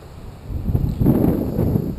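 Gusty wind buffets the microphone at a seaside cliff during RC slope soaring, a low rumbling roar that swells and stays strong through the second half, with no voices.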